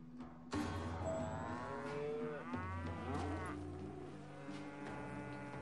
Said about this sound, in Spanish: Qué vacas tan feas.